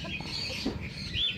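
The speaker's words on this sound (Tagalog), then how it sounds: "At saka mga manok, panabong." A fighting rooster gives a few short clucks close by, brief and fairly loud over a quiet outdoor background.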